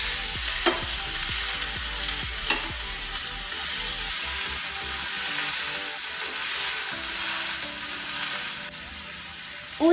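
Uttapam batter sizzles steadily in a hot pan, with a few scraping clicks of a spatula as it is flipped near the end.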